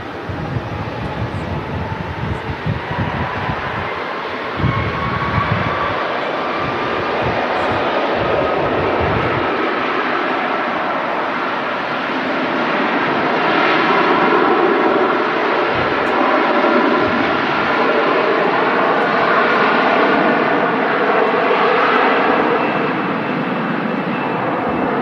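Airbus A330 jet engines spooling up at an airport, a long steady whine that climbs slowly in pitch over a broad roar, starting with low rumbling and holding strong and continuous at a distance.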